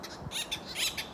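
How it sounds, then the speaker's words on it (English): Rapid, harsh squawking greeting calls from a pair of acorn woodpeckers, repeated in quick bursts over a steady background hiss. "there's the sound of greeting between 2 acorn woodpeckers"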